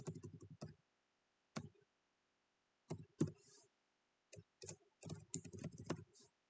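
Computer keyboard typing while coding, close and quiet: short bursts of clicking keystrokes separated by pauses, some clusters rapid and some single taps, with no one speaking.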